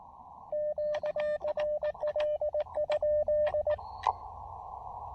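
Morse code CW sidetone from an amateur radio transceiver keyed by hand, a steady tone in rapid bursts of dots and dashes over about three seconds, fairly loud and alone, ending with a brief click.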